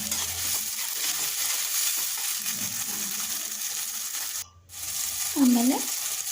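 Onion, tomato, chili and garlic fry with salt in a pan for gobi rice, a steady close hiss of sizzling oil with a brief stirring scrape near the end.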